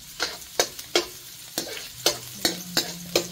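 Chopped onion and garlic fry in hot oil under a low steady sizzle, punctuated by about nine sharp, rhythmic scraping strokes of a utensil stirring the pan, close up and without speech.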